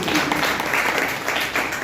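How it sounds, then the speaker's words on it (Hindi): An audience at a health talk gives a burst of applause, a dense steady patter of many hands clapping for about two seconds. "एक जोरदार तालियां"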